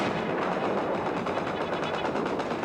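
Russian-made 14.5mm anti-aircraft guns fire in a dense, rapid, loud burst on a street in Lebanon in 1982, their shots blending into a continuous rattling roar.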